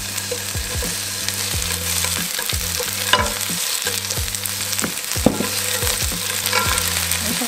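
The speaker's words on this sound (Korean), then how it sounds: "들기름 한 스푼, 야채를 양파를 먼저 볶을게요" Onion stir-frying in perilla oil in a pan, a steady close sizzle broken by repeated scraping strokes of a spatula at an irregular rhythm, with occasional sharper clicks against the pan.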